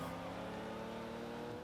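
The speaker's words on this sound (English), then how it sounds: "It's got a 5-liter V12 and" In Forza Horizon 2, a 5-liter V12 car engine drones at a steady, sustained pitch, loud and continuous for a short stretch, with no talk over it.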